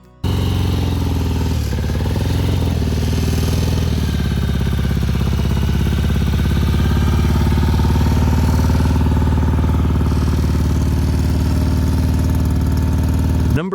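A classic British twin motorcycle engine runs steadily and loudly up close, a continuous throbbing idle with a few slight revs and no voices.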